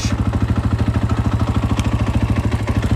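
A KTM 500 motorcycle engine runs close by with a steady, rapid low thumping pulse and mechanical clatter on top, holding an even rhythm throughout.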